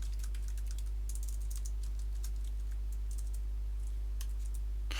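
Continuous fast tapping and clicking on a computer keyboard, faint and steady throughout, over a low electrical hum with no voices.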